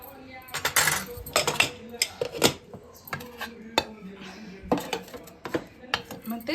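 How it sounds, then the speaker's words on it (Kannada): Dishes and cutlery clink and clatter in a home kitchen as curry is served onto a plate, with a run of sharp, close metallic taps and scrapes in irregular bursts and no talking. "ಈಗ ತಟ್ಟೆಗೆ ಹಾಕ್ಕೊಳ್ಳೋಣ."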